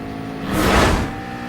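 Racing car engines in GT Sport at Barcelona, one car slipstreaming closely behind a Mercedes, a broad rushing roar that swells to a peak midway and then eases off, close and steady.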